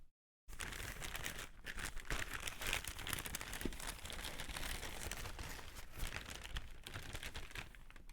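Plastic and paper packaging crinkles and tears continuously as retro Amiga, Spectrum and C64 computer items are unwrapped, a close, steady rustling that runs on after a brief silent start, with no talking.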